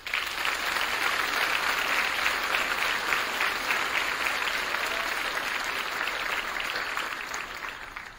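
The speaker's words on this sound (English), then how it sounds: "Please join me in applause for this extraordinary group of teachers" A graduation ceremony audience applauds a group of high school teachers, a broad, sustained wash of many hands clapping in a large hall, heard from some distance and steady throughout before easing at the end.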